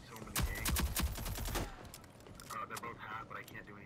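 Gunfire in the Rogue Company shooter game, with a flashbang and sniper fire: a quick cluster of sharp, loud shots up front, then quieter mechanical clicks and game effects.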